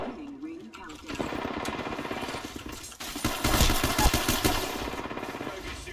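Rapid automatic gunfire rattles in a multiplayer shooter round, with a fairly close, loud burst that swells midway while a player talks over it.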